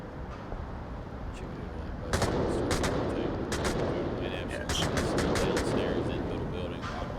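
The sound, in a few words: gunshots in a video game match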